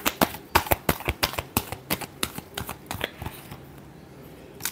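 Tarot cards shuffled by hand in a rapid series of crisp, close flicks and riffles, tapering off into quiet near the end.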